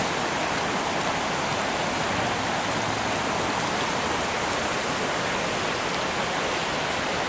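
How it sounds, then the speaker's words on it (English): Spring-fed Empire Creek runs high after rain, a dense, steady roar of rushing water that stays loud and close throughout with no voices over it. "This is Empire Creek, runs through our property."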